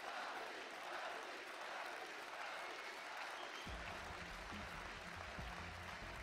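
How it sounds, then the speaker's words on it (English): A large esports crowd at a League of Legends championship semifinal applauds steadily in a big arena, dense continuous clapping with a low rumble of crowd noise rising partway through. "the crowd is showing their appreciation"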